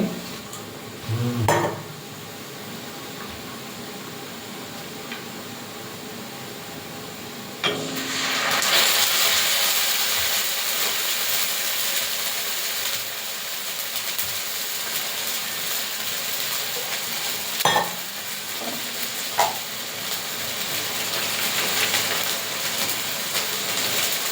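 Stirring spiced meat in a pan right after water is added, heard as a loud steady hiss of sizzling steam broken by several sharp clatters of the spoon against the pan, close and with no talking.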